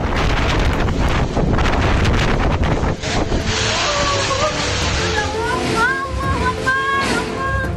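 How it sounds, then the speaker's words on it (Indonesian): Strong wind from a tornado-like whirlwind (puting beliung) tears through a residential village in Soreang, Bandung, West Java, roaring as continuous, loud, gusting broadband noise that fills the whole clip, with faint tonal whines and possible distant voices underneath. "Angin puting beliung menerjang pemukiman warga Kampung Sukamanah, Desa Soreang, Kecamatan Soreang, Kabupaten Bandung."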